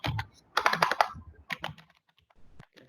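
Computer keyboard typing close up, with two quick bursts of rapid keystrokes separated by pauses, then a few scattered single taps.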